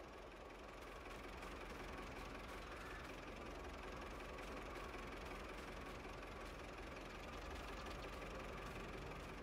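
An Ursus tractor in Farming Simulator 22 labors uphill with a dense, steady knocking engine drone that stays unbroken and faint-level throughout, with no voices.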